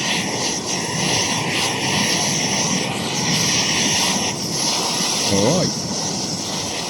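A cheap three-burner gas camping stove roars steadily at full power outdoors in wind, a constant close hiss and rush, while someone speaks briefly over it.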